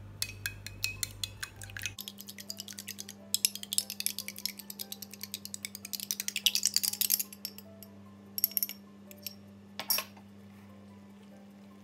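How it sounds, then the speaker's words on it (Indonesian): Rapid, irregular clinks of a utensil against a bowl while three or four eggs are beaten loose for mie martabak batter, close and crisp, with bursts and short pauses. "Tiga butir telur ataupun 4 dikocok lepas."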